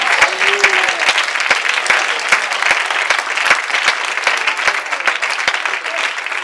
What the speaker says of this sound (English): Can we give the Lord a good hand?